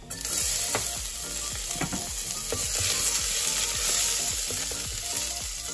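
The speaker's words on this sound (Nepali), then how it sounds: "एउटा सानो लसुन राख्दैछु अनि एउटा सानो टुक्रा अदुवा। एकछिन चलाइदिउँ। अनि थोरै प्याज यसरी।" Garlic, ginger and onion frying in hot oil in a pan, a loud close sizzle with repeated scraping strokes of a spoon stirring throughout, no voices.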